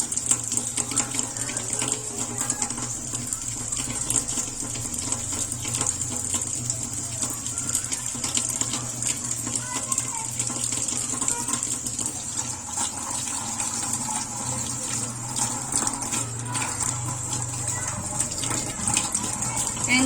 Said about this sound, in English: So now we're gonna do hand washing.